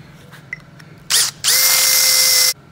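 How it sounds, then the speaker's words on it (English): Power drill fitted with a Unibit step bit deburring holes in metal brackets: a short whine, a pause, then a longer steady high-pitched run up close, with quiet room tone around it. "Got to take the sharp off of these now. I'm going to use the Unibit."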